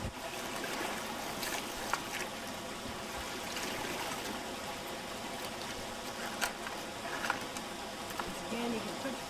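A gold pan is jigged in a circular motion underwater, giving a continuous trickling, sloshing wash of water with scattered small clicks of gravel throughout.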